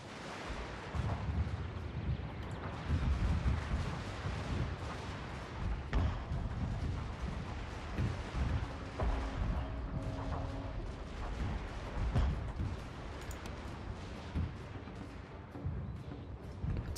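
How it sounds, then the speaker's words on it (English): Shrapnel shell artillery barrage in the Fall of the Samurai strategy game, a continuous dense rumble of distant booms and bursts with wind-like roar, steady and loud throughout, with no voices. "And shrapnel shell barrage number 2 is also a go."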